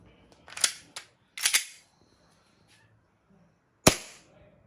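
A WE M1911 Mini airsoft gas pistol, a Colt MK IV Series 80 model with a 3-inch barrel, fires during a velocity test: four sharp, close cracks, two in quick succession, another soon after and a last one after a pause.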